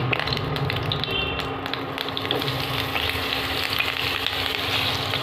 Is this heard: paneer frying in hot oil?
yes